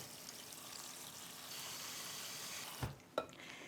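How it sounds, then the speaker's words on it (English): Water pours onto almonds in a bowl, a steady close splashing hiss that continues for most of the moment, then ends in a couple of sharp knocks and splashes. "And then we add water."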